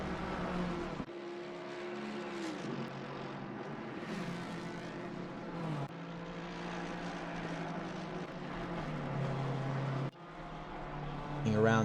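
Front-engine race cars, an AMG, a BMW and a Ford, lapping the Hungaroring in a sim racing game, their engines droning and shifting pitch steadily under continuous commentary speech.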